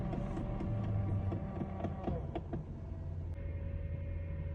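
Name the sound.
high-pitched noise from a Lexus LS 430 on a cold start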